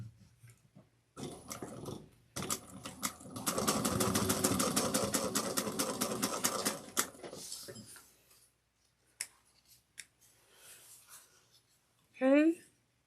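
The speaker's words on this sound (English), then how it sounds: "I'm going to just sew over it one more time just to make sure I got everything." A sewing machine stitches back over a seam on an Etol Convertible project, running in a steady fast rhythmic burst for several seconds before stopping, followed by faint handling clicks and a short higher squeak near the end.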